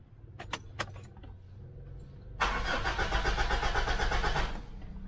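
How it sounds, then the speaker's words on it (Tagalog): A car engine cranks but fails to start: a faint key jingle and short clicks come first, then a loud steady starter grind lasts about two seconds and cuts off without the engine catching. "Pakita ko muna sa inyo na ayaw mag-start itong sasakyan."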